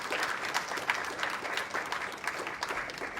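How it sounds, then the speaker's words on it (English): Brief, moderately faint applause from the audience at a talk on human rights and climate action, a steady patter of many hands clapping. "So please clap in the audience."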